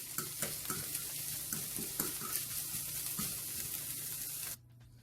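Red sweet pepper sizzles and fries in a pot for saltfish fritters, with steady close hissing and a series of stirring scrapes and clinks, ending abruptly near the close.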